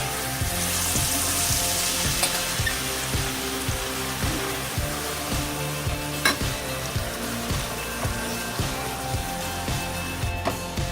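Mango pickle masala hits hot oil, sizzling and crackling densely and steadily for the whole stretch, close to the microphone, with a regular rhythmic clatter of stirring beneath the hiss and no talk.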